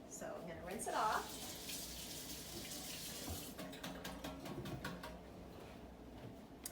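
Water runs from a kitchen tap as food is rinsed before breakfast is made, a soft, steady splashing close by that swells briefly near the start.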